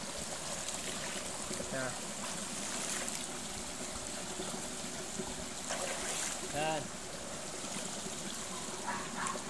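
Water flowing in a cold spring-fed stream at a bathing spot, a steady broadband rush with occasional trickling, heard under a man's brief spoken words.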